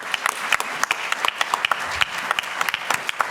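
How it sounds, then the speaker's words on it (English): A small audience claps during a nonprofit's ArcTank event in a function room, the applause sparse with distinct individual claps and steady throughout. "That's worth a round of applause"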